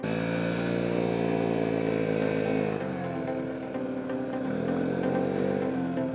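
A Kymco Agility 50 scooter with a new cylinder runs with its covers removed, giving a loud, buzzing two-stroke drone that holds steady, dips in pitch midway, then rises again.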